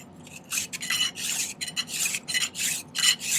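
Metal file rasping on 18 gauge silver sheet held in a miter vise jig while shaping a triple bar ring, a steady run of close, bright scraping strokes in quick rhythm with no talk.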